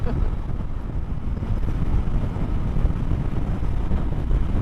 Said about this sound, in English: Only a bit of wind in it.